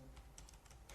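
Keys on a computer keyboard tapped in a quick, uneven burst of about half a dozen faint clicks within one second, heard over a low background hum.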